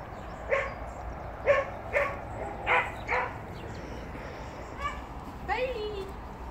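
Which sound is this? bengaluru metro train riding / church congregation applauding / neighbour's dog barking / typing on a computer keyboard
neighbour's dog barking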